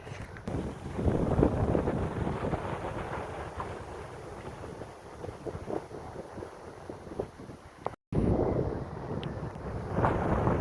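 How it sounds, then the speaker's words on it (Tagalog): Strong wind in Calomboyan, Pangasinan roars and buffets the microphone in loud gusts, rising and falling continuously, with a brief dropout near the end. "Oh, lakas ng hangin."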